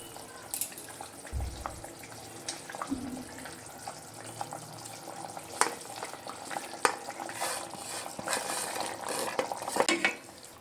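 Boiled taro and potato are stirred in a pot with fried fish and eggplant for a dry fish dish. Intermittent scrapes and clatters of the spoon sit over a low simmering sizzle, with a faint voice at times.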